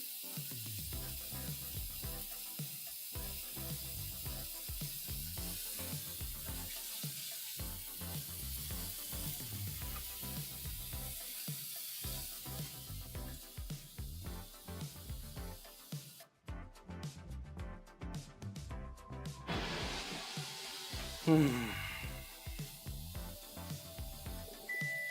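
Pork sizzles in a hot pan, giving a steady hissing crackle with small clicks and shifts, fairly quiet and continuous, no voices.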